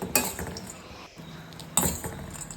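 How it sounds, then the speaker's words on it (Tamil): Raw peanuts rattling and scraping as they are stirred while dry-roasting in a kadai, with clinking metallic strokes in two bursts separated by a brief quiet gap, close and fairly quiet, no voices. "1 கப் பச்சை வேர்க்கடலையை ஒரு கடாயில் போட்டு நல்லா ரோஸ்ட் பண்ணிக்கலாம்."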